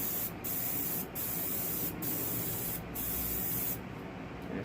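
An airbrush hisses on and off as it sprays Alclad metallic paint onto a replica Rolls Royce jet engine part. Four short bursts come in a steady rhythm, then a longer one, all over a quiet constant background hiss.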